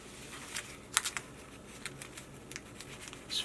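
Origami paper being folded and creased for a teddy bear heart card: soft crisp rustles and a few sharp crinkling snaps, close and quiet, scattered irregularly over a faint background, with no voices.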